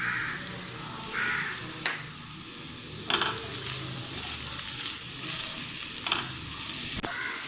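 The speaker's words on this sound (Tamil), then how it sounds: "மிளகுத்தூள் சேர்த்து கொஞ்சம் வதக்கியாச்சு" Mushrooms sauté in a pan with pepper powder, a soft steady sizzle under occasional stirring scrapes and clinks of a utensil against the pan.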